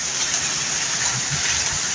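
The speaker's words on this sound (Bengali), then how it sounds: "প্রচুর পরিমাণে তো বৃষ্টি শুরু হয়েছে" Heavy rain pours down in a steady, dense hiss, close and continuous, with wind during a thunderstorm.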